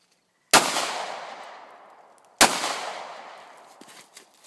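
Two loud, close gunshots at a shooting range, spaced about two seconds apart, each a sharp crack followed by a long echoing decay, with faint clicks after the second.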